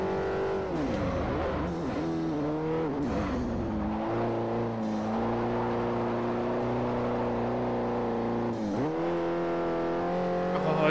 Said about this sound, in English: For a Renault, is actually a really good sounding engine.